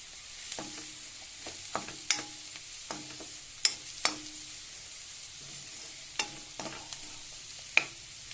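Urad dal vadiyalu and sliced onion frying in a pan, a soft steady sizzle broken by repeated sharp scraping taps of a spatula stirring, close and fairly quiet, with no one talking.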